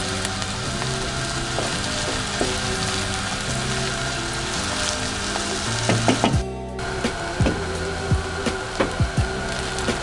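Onions fry in oil until light golden brown, giving a loud, steady crackling sizzle close up with a brief dip partway through, then rhythmic scraping knocks from stirring.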